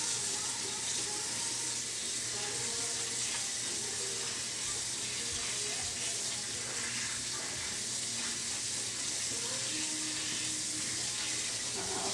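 Tap water runs steadily while tie-dyed shirts are rinsed under it in a sink, a constant dense splashing rush with faint shifting tones as the fabric moves through the stream.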